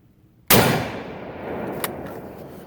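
A single loud rifle shot from a Mauser Enfield cracks out on an outdoor test-fire range at Knob Creek, followed by a long rolling echo that decays over two seconds, with a faint distant pop afterward.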